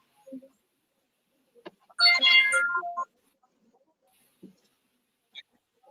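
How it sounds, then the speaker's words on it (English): Mobile phone ringtone chiming once for about a second, a bright melodic ring in an otherwise quiet room, with a few faint knocks around it. "Excuse me, let me turn off my phone."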